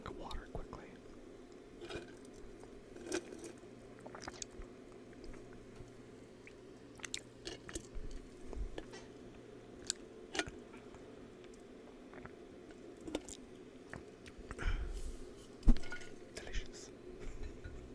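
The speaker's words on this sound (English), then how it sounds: "let me grab a drink of water quickly" Someone sips from a glass of water close to the microphone, giving quiet wet swallows and mouth sounds with faint clinks, alongside soft whispering.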